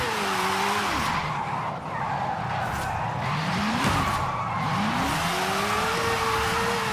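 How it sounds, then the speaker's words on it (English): Tires skid and squeal as a Nissan retro car drifts in Forza Horizon 5, with a steady engine drone and a few rising and falling squeal sweeps, loud and close, with no talk. "This is kind of a chill drift. Not gonna lie."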